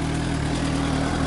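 A Suzuki GSR 600 motorcycle engine idles close by with a steady, deep, bass-heavy rumble and even pulsing, holding a constant level throughout with no talk over it.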